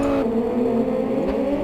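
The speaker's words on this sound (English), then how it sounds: "Oh, and the car spun." A race car spins out during a circuit race, its engine whining and shifting pitch in a short, loud burst of revving and tyre whir.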